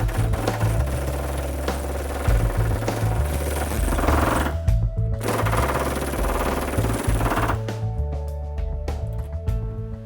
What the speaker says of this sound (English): Now watch the way I'm working the chisel.